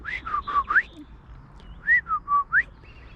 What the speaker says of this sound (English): You can hear the grey shrike thrush that